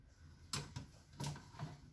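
Plastic fridge organiser drawers slide in and out, giving a few short scraping strokes and soft knocks close by, alone and without talk.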